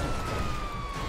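A steady police car siren wail with a sliding tone in GTA 5 Online runs continuously over loud rumbling engine and game noise, close and prominent throughout.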